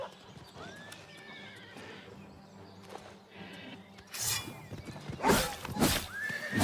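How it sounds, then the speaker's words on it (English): A horse in the video game Oblivion Remastered whinnies and snorts among scattered hoofbeats and rustling, with louder bursts of neighing and movement toward the end, all in game sound with no speech. "Do not hit my horse."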